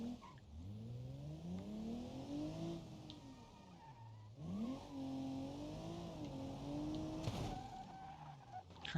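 Cars in BeamNG driving hard with revving engines that rise and fall in pitch, tires squealing under skids, and a sharp crash-like burst near the end, all steady and close with no talk.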